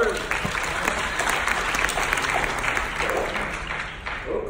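A crowd at a motivational speaking event applauds steadily, many hands clapping in a continuous wash at moderate loudness throughout.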